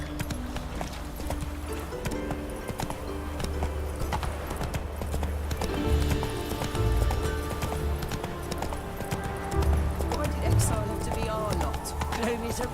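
Roach the horse galloping in The Witcher 3, a steady hoof clip-clop running throughout over a continuous background music bed, with a brief whinny or snort and a voice speaking briefly.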